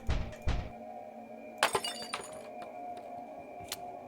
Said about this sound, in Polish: Widzę okno, wyrzucam kamieniem.